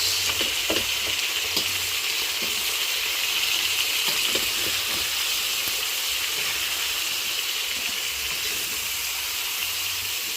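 Pork adobo with string beans stirred in a pan, a continuous quiet sizzle with scattered scraping and clinking stirring strokes early on, close and steady throughout without talk.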